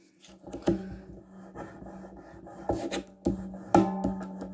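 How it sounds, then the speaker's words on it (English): A folded concertina paper strip being burnished down by hand on stronger cardstock, giving soft scraping and rubbing strokes with a few sharper crinkling accents, close and quiet. "you just want a concertina fold again and give it a good sort of burnish down as well"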